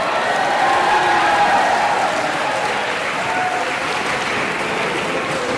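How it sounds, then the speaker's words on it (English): A school poetry slam crowd claps and cheers to welcome a middle school competitor, a dense, steady wash of applause filling the room at full volume throughout. "Clap him in."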